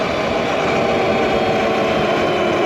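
A motorcycle engine running steadily while the bike is ridden fast, a loud, even drone with constant low rumble and wind, no breaks or speech.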